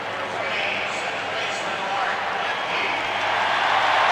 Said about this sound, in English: Mark Lemke is warmly applauded here